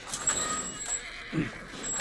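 A horse whinnies briefly in The Last of Us Part 1 on PC, amid a quiet outdoor ambience, with faint rumbling in the background.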